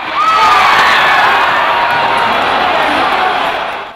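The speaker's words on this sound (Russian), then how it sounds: "Так негодовали болельщики после ответного гола хорватов" Football fans in Rostov react during the Russia–Croatia match, a dense, loud crowd roar of shouts, whoops and cheers that holds steady for the whole span before cutting off.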